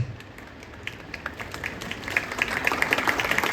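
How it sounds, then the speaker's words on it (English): Applause from a school open mic audience honouring children and a chief guest, starting sparse and building into steady, moderately loud clapping that thickens toward the end. "Let's give a big round of applause to our wonderful kids and our inspiring chief guest."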